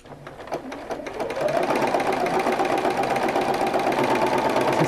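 A sewing machine stitches embroidery held in a hoop, working in long and short stitches with a steady, loud, continuous whir that builds up after a brief start and runs on without pause.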